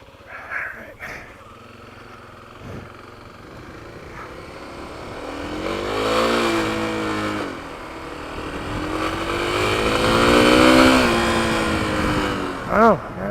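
A Kawasaki KLX300 motorcycle riding on the street, its engine rising and falling through gear changes in two long swells, fairly close, with a few brief sharp sounds at the start and end.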